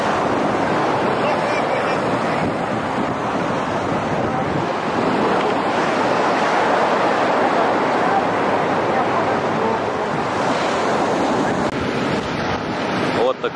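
Sea waves washing onto a small pebble beach in Okurcalar, Turkey, a continuous loud hiss and rumble of surf mixed with heavy wind buffeting the microphone and a voice talking over it.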